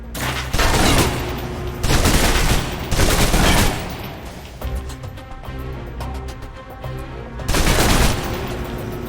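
Loud bursts of submachine gun fire in the Alpha Protocol video game, rapid rattling volleys in several clusters with brief pauses between, close and dominant throughout.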